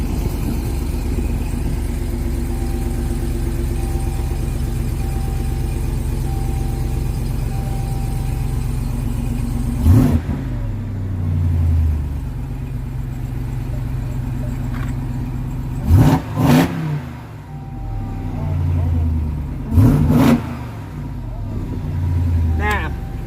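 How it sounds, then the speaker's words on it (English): A Ram TRX pickup truck engine idles with a deep exhaust burble, then revs sharply three times in short bursts, loud and near, each falling back to idle. "just from that little engine rev, you can definitely hear the exhaust."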